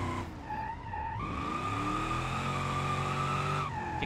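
Tires screech in a long sustained skid as a car drifts through a long changing-radius corner in the BeamNG driving game, the squeal wavering then holding steady with engine drone beneath, loud and continuous throughout.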